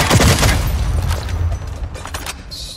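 Rapid bursts of turret gunfire in a sci-fi shooter game, loud and dense at first, then thinning into scattered shots and booms over about three seconds.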